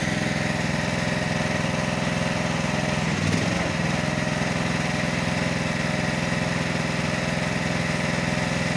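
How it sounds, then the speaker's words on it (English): A trailer-mounted logging crane's engine or hydraulic power unit runs steadily as the stick cylinder folds down and up, with a brief shift in pitch partway through under the constant drone. "The other cylinder, the stick, the middle one, fold that down and up."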